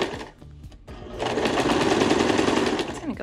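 A sewing machine understitches a skirt waistband, starting with a short burst, pausing, then running in a loud, steady mechanical whir for about two seconds.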